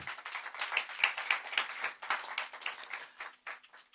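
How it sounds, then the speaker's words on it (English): Audience applause at a business council event with the governor, a dense patter of many hands clapping steadily for about four seconds, moderately loud and building slightly in the middle before easing off. "Let's raise the decibel level of that applause."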